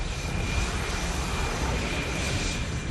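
Fighter jet flying at an Indian Air Force exercise, a steady, loud, broadband engine roar with no variation across a few seconds.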